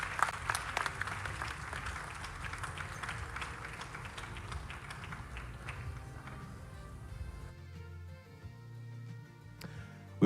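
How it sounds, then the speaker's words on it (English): Audience applause welcoming a judge at a media awards ceremony, a full steady crowd clapping that stops abruptly after about seven seconds, leaving faint room noise and a few scattered claps. "Can we keep the applause going,"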